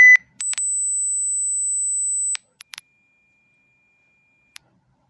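Steady electronic phone speaker test tones play in sequence, a high beep held for a couple of seconds, then an even higher piercing tone, with brief clicks between.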